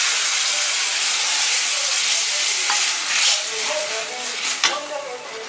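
Tamarind water poured into hot oil with turmeric bursts into a loud, steady hissing sizzle with bubbling and steam, close up, continuing throughout.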